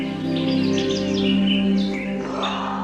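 Birds chirping and calling among forest vegetation in Yosemite, several quick tweets and short trilling phrases over a steady background hum.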